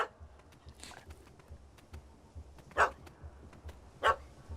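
A dog barks in The Witcher 3, two sharp yaps spaced a second apart standing out over a quiet, low ambient game backdrop with faint scattered clicks.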